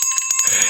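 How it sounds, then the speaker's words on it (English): A small bell is rung to close a finance talk show, giving a bright, close, ringing tone with quick repeated strikes and a shimmering sustain. "Roman, do you want to ring the bell for the end?"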